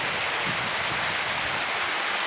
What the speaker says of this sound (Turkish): Şelale burası. Yüksekliği 25 metre var yine.